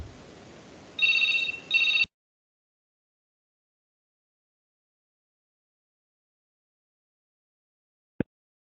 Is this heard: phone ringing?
yes